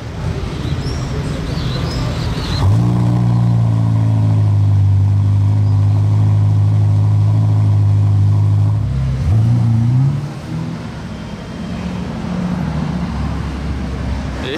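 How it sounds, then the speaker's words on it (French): Three Bentley cars, including Bentaygas, drive past in convoy through Monaco streets during Grand Prix weekend, a loud engine note rising and swelling as they pass close by amid traffic noise, then easing away. "Voilà, le petit convoi, là, les 3 Bentley qui suivent."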